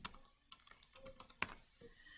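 Quick bursts of keystrokes on a computer keyboard, irregular clicks and taps close to the microphone, faint and without any talk.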